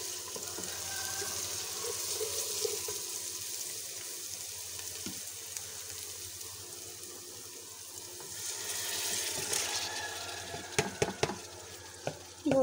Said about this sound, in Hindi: मसाला भुन चुका है जी, अभी इसमें मैं चिकन शामिल करूंगी।